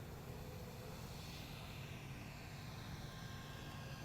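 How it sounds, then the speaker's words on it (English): An FPV racing drone arms and lifts off, producing a steady, faint broadband whir of small propellers that holds evenly throughout with no voices. "So go ahead and arm, and just really nice takeoff."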